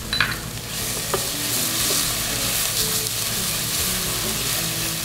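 Garlic, onions and tomato paste sauté in a pan with a steady, dense sizzle and occasional stirring scrapes, loud and continuous from start to finish.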